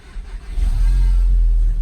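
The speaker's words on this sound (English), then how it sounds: "So I'm going to start the car." An Audi S3 8V or VW Golf R engine starts up close by, with a brief crank that catches into a loud, steady low idle.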